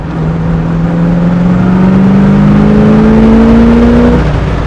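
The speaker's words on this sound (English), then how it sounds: "Love that 4-barrel sound." Close, loud revving of a Ford Mustang Mach 1 with a 428 Cobra Jet V8 and 4-barrel carburetor, one steady rising pull that climbs smoothly in pitch for about four seconds before easing off, with no talk.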